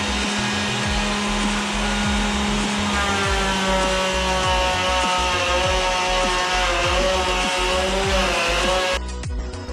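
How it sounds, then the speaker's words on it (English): A router on a sled is fitted with a 2-inch flattening bit and skims a hackberry slab. It holds a loud, continuous high whine with rhythmic chattering cuts as it passes, then cuts off abruptly near the end. "I'm just going to take this router sled with a router and a flattening bit that you can see here."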